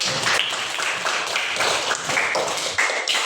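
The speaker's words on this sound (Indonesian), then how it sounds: "berikan tepuk tangan dulu" A classroom of students gives a round of applause, a dense, lively patter of close handclaps filling the room with no voices over it.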